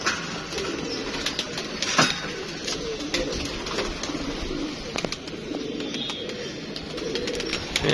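Pigeons coo steadily in a loose, low-pitched murmur, with a soft flutter of wings now and then, all fairly close and continuous without a break.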